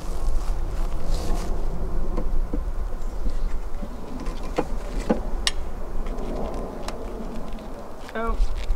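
Honeybees swarm thickly inside an open spring beehive, giving a dense, continuous buzz that fills the whole stretch, with breezy outdoor noise and a few sharper knocks from handling the hive.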